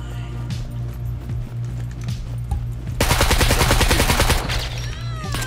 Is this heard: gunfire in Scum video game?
yes